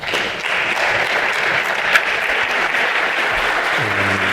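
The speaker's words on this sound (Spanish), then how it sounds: "Un fuerte aplauso, por favor." An audience at a Madrid city council presentation on fire brigade response times breaks into steady, dense applause that holds at an even level throughout, with a brief voice near the end.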